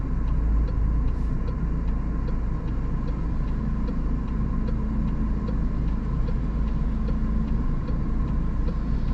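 Steady in-car road noise from a company car driving in Norway, a continuous low engine and tyre rumble close up with faint regular ticking, no voices.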